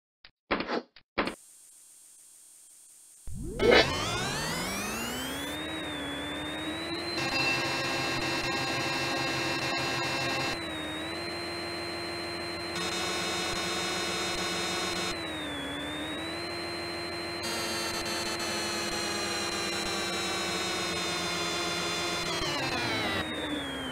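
A CNC lathe machining a steel bolt: after a few clicks, the spindle spins up into a loud, steady, whining hum that shifts pitch several times as the cut proceeds, with no voices.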